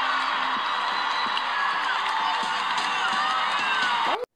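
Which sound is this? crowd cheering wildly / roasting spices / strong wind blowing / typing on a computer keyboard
crowd cheering wildly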